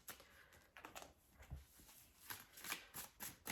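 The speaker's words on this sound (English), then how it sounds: "I'm going to shuffle until I get like flyouts" Tarot cards being shuffled by hand, a run of soft papery riffles and flicks in irregular bursts, close and quiet, with no talking.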